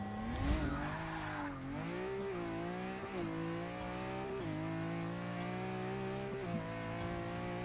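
A BMW E30 and a McLaren 650S race a quarter mile in Forza 6, with a loud, continuous engine drone that climbs in pitch and drops at each of several gear shifts, alone without talk.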